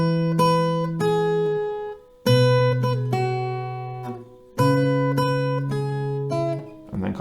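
Plucked acoustic guitar plays the melody of a song over low bass notes, in three clear phrases of ringing notes with brief pauses between, solo and close.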